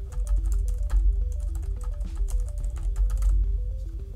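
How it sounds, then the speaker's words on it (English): Someone types an account name on a computer keyboard while setting up a Windows 11 virtual machine, a steady run of close, crisp key clicks over a low background hum, with no talking. "the next thing I want to do is type my account in"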